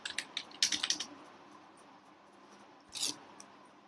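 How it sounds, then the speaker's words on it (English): A computer keyboard is typed on in short bursts of quiet clicks, with a quick run of keystrokes early on and another brief cluster near the end in a quiet room. "we can just be typing them one after the other"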